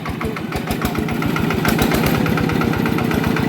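Yanmar engine running steadily with a rapid, throbbing knock that stays loud and even throughout, no voices over it.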